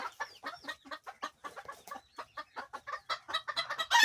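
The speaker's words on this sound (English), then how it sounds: "we have broody hens still on nests over here" A backyard flock of chickens, including roosters and broody hens, clucks in quick, steady bursts close by, a continuous rhythmic chatter with no talking.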